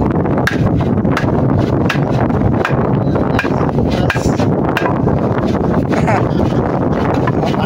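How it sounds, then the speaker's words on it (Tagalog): Strong wind roars across choppy water on a fishing outing, loud and continuous, with sharp knocks and taps scattered through it. "kaso lang mahangin, maalon"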